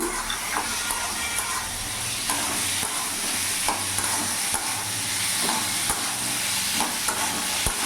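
Raw green peas stir-fried with spices in a pan for a katla fish curry, a continuous close sizzle with repeated scraping strokes of a spatula against the pan.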